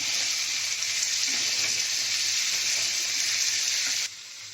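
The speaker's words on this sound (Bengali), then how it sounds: "তেল আমার গরম হয়ে গেছে, এবার আমি এগুলো একটু সাঁতলে নিচ্ছি।" Squash pieces and potato hit hot mustard oil in a pan for a Bengali vegetable curry, giving a bright, dense, close-up sizzle that holds steady and then drops in level after about four seconds; no talking.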